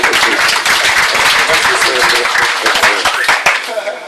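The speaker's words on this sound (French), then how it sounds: "applaudissez un peu pour Netour" Applause from an audience at a 2012 press conference, a dense spread of clapping running throughout with voices talking over it.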